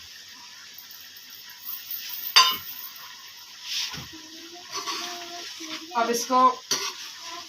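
Chicken karahi gravy with coriander, cumin and green chilies is stirred in a pan, with a sharp utensil scrape, intermittent metallic clinks and scraping, and a soft sizzle underneath, while a voice speaks briefly.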